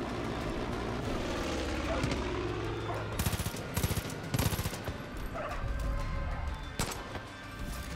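Gunfire in the video game Far Cry 5 comes in rapid automatic bursts and sharp shots over a continuous background rumble, loud and close, starting a few seconds in and recurring through the rest.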